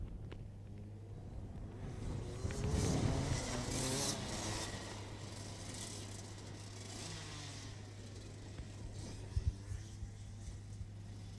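Rotax Max karts on a performance lap pass as a distant, steady engine drone that swells and fades, a faint buzzing rumble heard from trackside.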